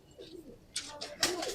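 Faint, low cooing from a pigeon of the Batakh Peri bloodline, with a few brief rustling bursts, like feathers or wings shifting, close by in a quiet space.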